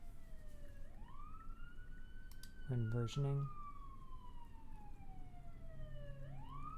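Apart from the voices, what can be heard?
police car sirens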